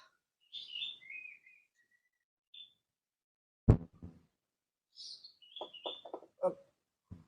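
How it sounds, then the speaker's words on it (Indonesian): An oriental magpie-robin (murai) sings nearby in a series of clear, whistled phrases and chirps separated by short pauses, with a sharp knock or clatter partway through. "ini burung murai punya papaku"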